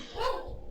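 A dog gives one short, close bark against a quiet indoor background, with no talk over it.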